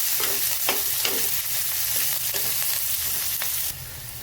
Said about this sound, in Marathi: कांद्याला परतून घेऊ आणि नंतर आपण टोमॅटो टाकू।